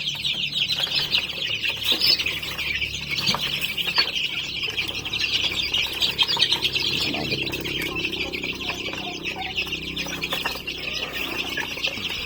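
Native chickens cluck and chirp during feeding, a busy continuous flock chatter close by over a steady background hiss.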